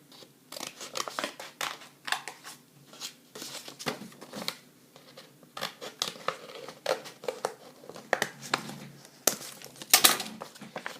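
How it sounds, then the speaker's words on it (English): Scissors snip steadily around a half-circle shape drawn on a paper card for a craft project, a close, crisp series of cuts with paper rustling and crinkling between them. "Then you grab the scissors and you cut around it."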